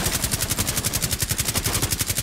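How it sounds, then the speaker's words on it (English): Rapid automatic gunfire in Rainbow Six Siege, shots fired through a window inside a skyscraper, loud and close in an even, fast burst of roughly a dozen rounds per second with no talking. "they're shooting through this window"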